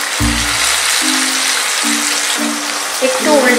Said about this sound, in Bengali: একটু উল্টে পাল্টে চারদিক দিয়ে একটু হালকা করে ভেজে নেবেন